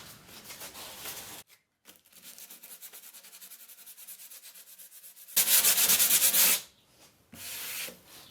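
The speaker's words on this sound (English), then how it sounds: "So I am going to go ahead and get out some sandpaper" Hand sanding a thick finish on a wooden crosscut sled with 80 grit sandpaper: rapid rhythmic scratchy back-and-forth strokes, close and fairly loud, broken by pauses and ending with a louder, harsher burst.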